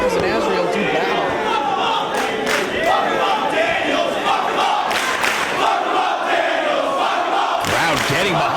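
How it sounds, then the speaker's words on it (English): A New York City wrestling crowd roars steadily and loudly behind Christopher Daniels during his Ring of Honor match with Azrael, a dense wall of cheering and chanting that runs throughout with no let-up. "Crowd getting behind Christopher Daniels here in New York City"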